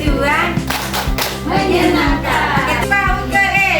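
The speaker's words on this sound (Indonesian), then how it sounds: "Ya, tepuk transisi PAUD ke SD." Children in a PAUD-to-elementary transition class clap out a rhythmic group chant, sharp hand claps landing in a steady pattern under their sung unison voices, close and loud throughout.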